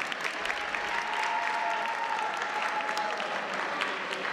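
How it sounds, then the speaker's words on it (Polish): Dense, steady applause fills the hall at a 2020 sports gala as an award recipient is honored, with many hands clapping continuously at an even, loud level throughout. "Wielkie brawo, Aleksandra Ryczywolska."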